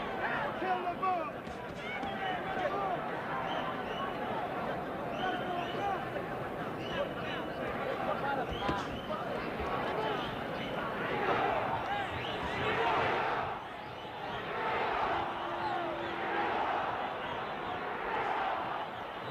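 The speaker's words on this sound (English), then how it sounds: "you hear the crowd picking up the chant for Ringo now" A boxing arena crowd at a Muhammad Ali versus Oscar Bonavena world title fight swells into a rhythmic chant, a dense roar of many voices, steady and moderately distant under the fight noise.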